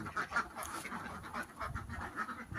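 Ducks on a duck farm give repeated quacks, fairly faint and somewhat distant, in short irregular bursts.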